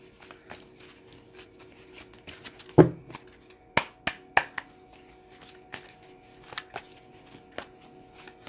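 Tarot cards are shuffled and pulled during a reading, giving soft papery rustling and several sharp slaps and flicks, with card snaps spaced unevenly across a quiet room.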